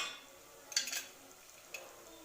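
Dry masala spices, turmeric and mutton masala among them, frying in oil in a pan: a quiet, steady sizzle with a brief scraping stir and clink near the middle, no voices.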